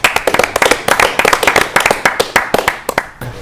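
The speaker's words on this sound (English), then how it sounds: "Big round of applause for Big Town Hero." Audience at a geek-themed stand-up comedy show claps at the end of the set, a small room of distinct, close hand claps in a quick irregular patter that thins out toward the end.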